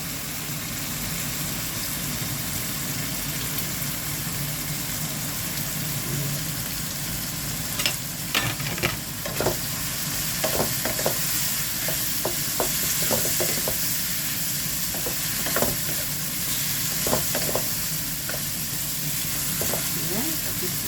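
Chicken sausage sizzling and frying in a pan for Filipino-style spaghetti, a steady broadband crackle throughout with sharper pops and stirring clicks in the second half, close and fairly loud with no talking.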